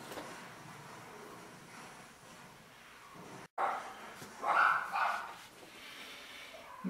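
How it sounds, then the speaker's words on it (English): Several dogs barking inside a garage, muffled and somewhat distant, with a few louder bursts of barking against steady background noise outdoors. "you can hear my dogs just raising Cain out in the garage"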